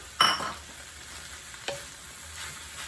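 Soft precooked clear noodles stirred into sizzling ground beef filling for Indonesian empanadas, a sharp scrape of the utensil at the start and another stroke later over a steady frying hiss, no voices.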